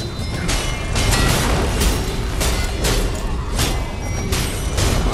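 In the video game Godfall, an enemy sets off an explosion that lands as a loud run of heavy booming bursts, repeating about every half second and rumbling deep throughout.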